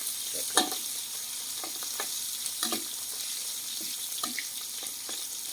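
Garlic stir-fried for a long eggplant dish, a loud, hissing sizzle throughout with intermittent spatula scrapes and clacks against the pan, no voices.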